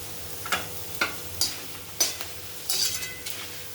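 Puffed rice is being tossed and fried in a pan, with a soft background sizzle broken by about eight sharp scraping and clattering strokes from stirring, spaced unevenly over a few seconds.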